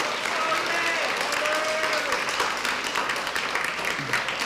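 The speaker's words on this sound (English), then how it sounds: "another round of applause for our student ambassadors" Sustained applause from a school district meeting audience for student ambassadors, a steady dense wash of clapping filling the whole stretch with some crowd murmur mixed in.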